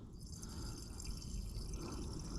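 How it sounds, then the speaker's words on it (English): Water starts running from a newly opened valve on an off-grid cabin's plumbing after winter, giving a faint, steady rushing flow with no other sounds. "Ooh, I hear water."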